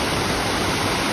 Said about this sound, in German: Da fließt in Kaskaden hier das Wasser runter von dem oberen See.